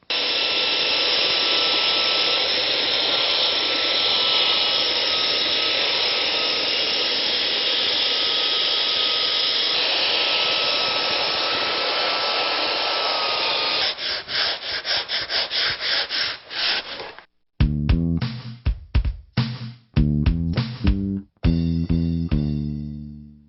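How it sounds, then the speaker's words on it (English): A belt sander grinds across a laminate countertop with a loud, steady abrasive whir for most of the stretch, then it breaks into short stuttering bursts and brief gaps near the end. "Using a belt sander, always this direction with the front of the sander hanging over."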